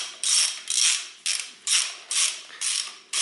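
Screws on a plastic cover of a 1992–2002 Toyota Corolla being undone with a ratcheting tool, six or seven crisp clicking ratchet strokes in a steady rhythm, close and loud with no talk.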